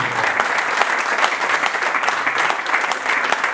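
Steady, full applause from the audience at a press conference for a fight night, La Nuit des gladiateurs 2015, greeting the new French cadet champion, with dense clapping throughout and no talk over it.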